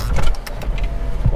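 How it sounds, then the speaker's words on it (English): Power windows in a JDM Toyota Harrier operating, a short whirring motor sound mixed with low thumps and cabin handling noises, close up. "Windows, they all work."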